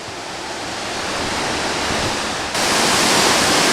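A big waterfall in the North Carolina Highlands roars as a steady, dense rush of falling water, loud and constant, swelling slightly partway through.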